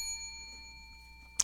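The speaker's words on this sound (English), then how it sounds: "I will employ what I have called the inappropriate bell." A single bell ding rings out, a clear metallic tone that decays slowly over more than a second in an otherwise quiet moment, followed by a brief sharp knock at the end.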